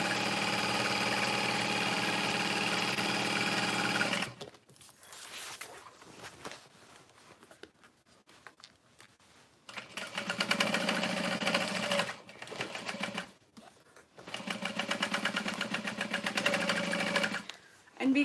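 A sewing machine runs in steady bursts, stitching a canvas tote bag with vinyl already attached, with loud continuous runs broken by pauses of quieter handling and movement.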